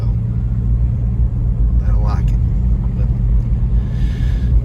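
A car's engine runs with a steady, deep low rumble close by. A brief voice-like sound rises above the drone midway.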